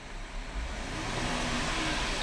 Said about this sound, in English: I'm gonna rev the engine.